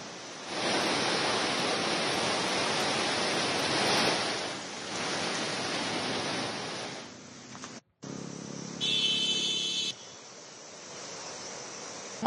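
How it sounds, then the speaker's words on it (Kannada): Torrential rushing water of the Beas river in flood during a Himachal Pradesh cloudburst, a loud broadband roar that fills the scene, briefly dropping out, then returning with some background sounds. "ನೋಡಿ, ನೀವು ಆ ಬಿಯಾಸ್ ನದಿಯ ದೃಶ್ಯಗಳನ್ನು ಗಮನಿಸ್ತಾ ಇದ್ದೀರಿ."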